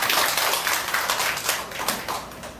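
A seated audience in a community college lecture room claps together to welcome a judge, a dense, steady patter of many hands close by that fades slightly toward the end, with no talking over it.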